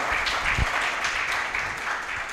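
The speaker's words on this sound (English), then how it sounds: "Please give another round of applause" An audience at a benefits launch event gives a round of applause, a steady dense patter of many hands clapping at moderate level throughout the short stretch, with no one speaking over it.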